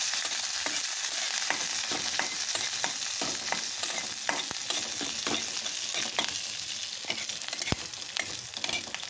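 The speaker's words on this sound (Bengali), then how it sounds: "এইটা আমি এখন একটু নেড়ে নেব।" Curry leaves and green chillies stirred in a hot pan for curd rice, a steady sizzle of frying with repeated scraping stir clicks, close and alone without talk.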